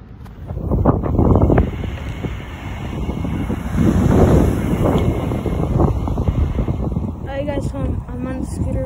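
Steady wind buffeting a microphone while someone rides a scooter through a park, a broad rushing roar that swells and fades continuously, with a voice talking over it.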